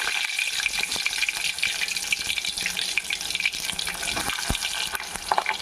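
Bitter gourd pieces fry in hot oil with a steady, dense hiss and crackle that stays loud and close throughout, broken by a few sharper pops.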